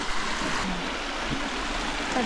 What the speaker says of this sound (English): Yeah, listen to the water.